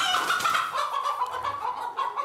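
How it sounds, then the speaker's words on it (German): Farm hens cluck busily close by, a steady run of overlapping clucks and cackles with no talking. "Die Hähner machen eine Gaude, wo die überall hinlegen."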